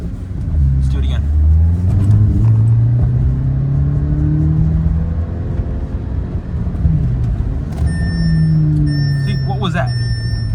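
An Audi A3 with an automatic gearbox revs hard and holds each gear far too long before a delayed shift. The loud engine drone climbs steadily, drops, then climbs again, with a few beeps near the end.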